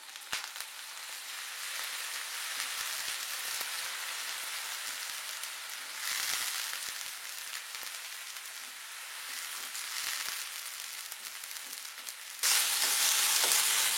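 Ground onion frying in a pan with ginger-garlic paste, a steady dense sizzle running throughout, swelling louder around the middle and again near the end as it is stirred.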